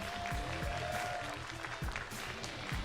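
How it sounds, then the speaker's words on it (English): Steady applause from an audience fills the clip, a dense wash of clapping that holds at an even level throughout. "Let's give them a big round of applause."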